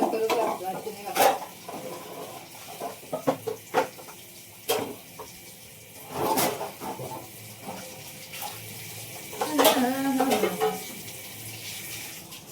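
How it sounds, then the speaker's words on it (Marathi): Pots, dishes and utensils are scrubbed at a kitchen sink with running water, irregular clanks and scraping bursts over a faint wash of tap flow, close by and with no talking. "मी आधी भांडी घासते"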